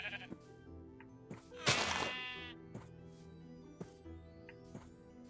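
Sheep in the Minecraft GregTech New Horizons modpack bleat several times in a row. One loud, drawn-out bleat stands out among shorter, fainter calls, with no talking.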